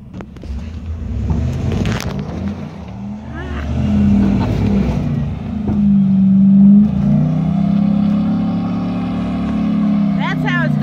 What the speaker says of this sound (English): Get a Ford to pull out a Chevy.